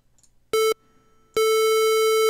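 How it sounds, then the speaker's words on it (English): A pure sine tone from the Massive synthesizer with a phaser effect adding harmonics: one short steady pulse, a brief gap, then a longer sustained tone, loud and clean with no other sound. "On the sine wave, all it is a single pulse, so you can hear the phaser effect because it's adding harmonic content"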